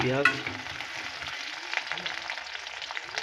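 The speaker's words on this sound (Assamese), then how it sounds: "তেল গৰম হৈ গ'ল। এতিয়া দিছো পিঁয়াজ। এতিয়া লৰাই আছো" Onions sizzle in hot oil while being stirred: a steady, close frying hiss with scattered scraping and clicking of the stirring utensil, after a brief voice at the start.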